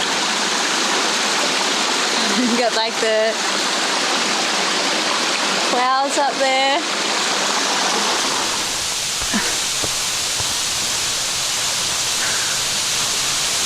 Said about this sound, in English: This is so beautiful at the bottom of a waterfall.